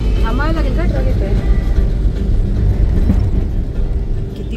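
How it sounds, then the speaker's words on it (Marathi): A truck passes along a village road in rural Maharashtra during palkhi festival preparations. It makes a loud, steady low engine rumble that fills the whole stretch, with faint voices mixed in underneath. "थांबावं लागेल का ट्रक येतोय."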